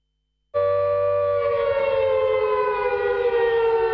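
An air raid siren in Ukraine starts abruptly and holds a loud, steady wailing tone that drones on without pause.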